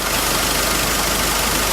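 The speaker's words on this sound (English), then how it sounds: "We're going to leave the engine at idle at this phase of the clean." A Nissan Navara engine idles steadily during a throttle body clean, a constant broadband rumble with even loudness throughout, near and unbroken, with no voices.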